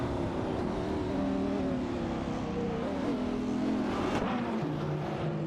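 Video game race between a Dodge Viper SRT 10 and a Nissan 370Z Nismo, engines droning steadily with shifting pitch as the cars hold speed, loud and continuous with no talking.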